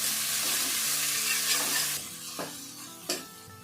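Crushed garlic, ginger and green chillies frying in a pan for samosa filling, a loud steady sizzle with stirring scrapes and a couple of sharp clinks close by.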